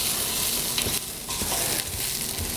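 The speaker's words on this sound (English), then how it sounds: "We're also going to add in our dried thyme" Dried thyme is stirred into vegetables in a pan for a chicken tortellini soup, with a loud, continuous sizzle and scraping stirring strokes close by.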